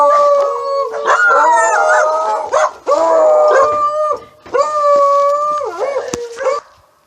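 A dog howls loudly and close by in long, wavering, drawn-out cries, several in a row with brief breaths between, and no talking.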